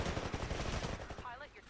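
Rapid SMG fire from a Titanfall match rattles in a dense, fast burst for over a second, then cuts off. A faint voice and a short tonal effect follow.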